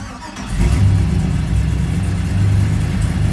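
A 1959 Chevrolet Apache 3100 short step-side pickup with an LS engine cranks and fires, settling into a loud, steady rumbling idle close by.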